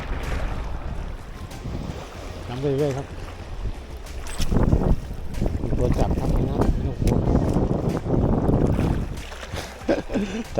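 Wind buffets the microphone at a shallow rocky shore during squid fishing, rumbling and gusting unevenly with nearby waves while someone talks intermittently.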